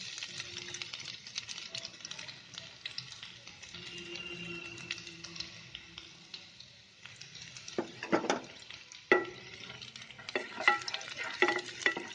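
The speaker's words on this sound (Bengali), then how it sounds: "তেলটা হয়ে আছে। এর রসুন কুচোগুলো দিলাম" Chopped garlic dropped into hot oil for a bottle gourd fry, a soft steady sizzle with scattered crackles and sharp clinks of a utensil stirring against the pan, growing busier toward the end.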